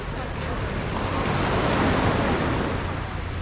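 Ocean waves on Karon Beach in Phuket wash in as a steady, close surf roar with wind buffeting the microphone.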